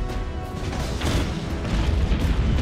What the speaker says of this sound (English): launch the killing blow with our powerful short-range cannons